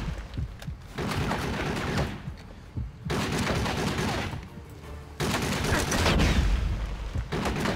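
Gunfire from the video game James Bond 007: Blood Stone, with bursts of rapid automatic fire and heavy booms arriving in three loud waves separated by brief quieter gaps.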